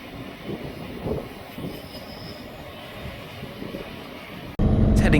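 A train runs past in the background of a suburban street, a low steady rumble with faint wheel noise under quiet talk, followed by a sudden loud burst of nearby sound at the end.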